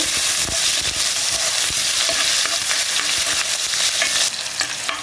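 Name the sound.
chopped onion frying in oil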